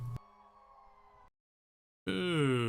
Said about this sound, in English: Are those sirens I hear?